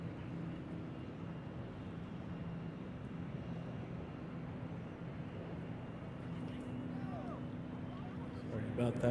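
An airliner, an American Embraer E175LR, takes off from runway 1 at Reagan National Airport as a distant, faint steady jet rumble that swells slightly toward the end, with voices talking over it.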